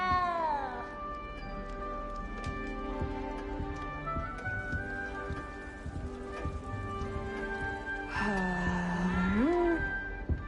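A cat in That Wizard Game meows several times, with drawn-out, wavering cries and one loud rising wail near the end, over steady rain-like background noise.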